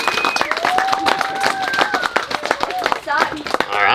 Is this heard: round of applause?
yes